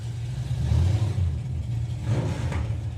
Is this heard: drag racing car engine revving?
yes